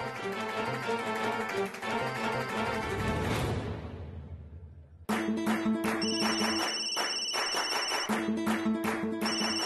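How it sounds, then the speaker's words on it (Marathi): A melodic electronic phone ringtone plays loudly, pauses briefly, then starts again with a brighter, repeating tune. "शोभाताईंचा फोन"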